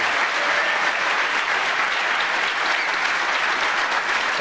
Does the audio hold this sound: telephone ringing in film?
no